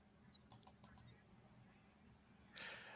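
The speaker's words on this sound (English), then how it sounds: "you've got a mechanical keyboard too, I think, so it makes a difference." Four quick, crisp mechanical keyboard keystroke clacks in a fast burst, followed by a pause and then a soft hiss; close and fairly loud against a quiet room.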